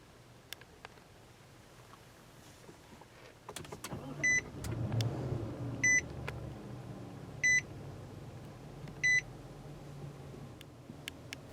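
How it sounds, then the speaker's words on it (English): A 2018 Infiniti QX80 started by push button: a quiet cabin, then the engine turns over and settles into a low idle while a series of regular electronic chimes rings out repeatedly. "Just press the standard button to start."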